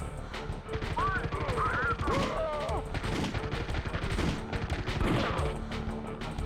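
A machine gun fires in Danger Girl: rapid, loud rattling bursts up close, repeating in clusters with short pauses and some impact noise.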